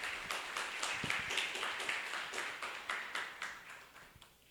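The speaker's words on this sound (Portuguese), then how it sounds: "Mais uma vez, uma salva de palmas para a dupla" Audience applause at a paper-presentation session, many hands clapping steadily at moderate volume and tapering off toward the end, with no voices over it.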